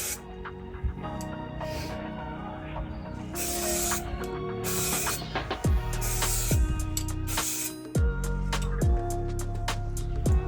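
Primer sprayed from a can onto an Audi A3 8P spoiler in repeated short hissing bursts, separated by brief pauses, close and fairly loud.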